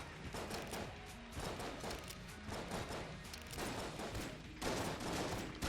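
Rapid gunfire from the video game Enter the Gungeon, dense bursts of shots and impacts repeating throughout at a fairly low level, with a heavier volley near the end.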